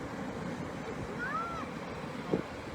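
Surf rolling onto a beach at Pawleys Island under a northeast wind, a steady broadband wash with wind buffeting the microphone, faint and continuous, with a brief bird-like chirp partway through.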